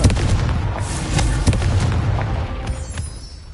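Confringo spell explosion in the video game Hogwarts Legacy: a loud, booming blast with rumbling crackle that slowly fades, and no voices.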